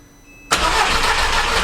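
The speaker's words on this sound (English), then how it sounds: "We should see all four injectors fire up, so let's see what happens." A Mk1 Audi TT engine cranks and catches abruptly with all four injectors firing, jumping from near silence to a loud, steady running roar close by.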